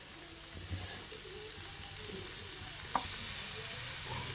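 Chopped tomato goes into a pan for crab rasam and fries with a soft, steady sizzle and occasional stirring clicks, quiet and close.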